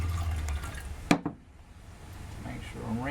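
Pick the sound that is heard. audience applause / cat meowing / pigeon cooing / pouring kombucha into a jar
pouring kombucha into a jar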